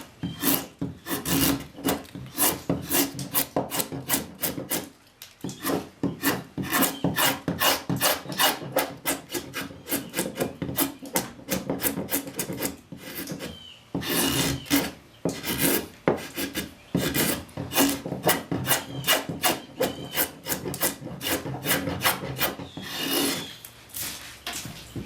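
A scorp shaving the hollow of a wooden chair seat, producing dense, rapid rasping strokes that scrape repeatedly for a long stretch, close and loud with only brief pauses between runs.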